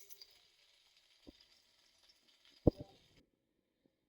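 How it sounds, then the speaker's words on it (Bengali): Eggplant fries in a pan with a faint, steady sizzle, broken by a few sharp clatters and a louder squishy stirring burst near the middle, close up and without speech. "বেগুন ভাজা হচ্ছে"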